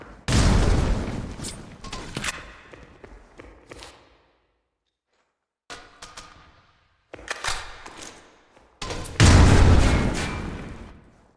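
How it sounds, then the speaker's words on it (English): Grenades are thrown and detonate in a competitive Counter-Strike-style match, giving loud bursts and booms separated by quiet gaps, with a heavy blast near the end. "Smoke out. Grenade incendiary out."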